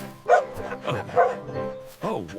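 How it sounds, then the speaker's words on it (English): A dog gives a few distinct, close barks in a short sequence, clear and fairly loud with brief gaps between them. "This is a dog."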